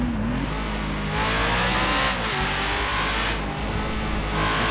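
A modded Lamborghini engine in GTA 5 roars loud and close, a continuous high-revving drone that surges in pitch several times as the car speeds through traffic.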